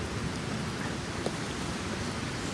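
Rain falls steadily at an outdoor cooking spot beside the Juna Ghanta waterfall, a constant dense patter with no talking.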